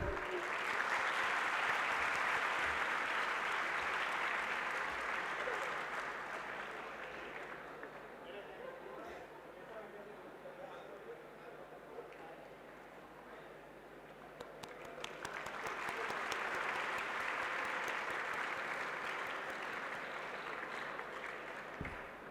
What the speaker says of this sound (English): Don't shy away to clap, people.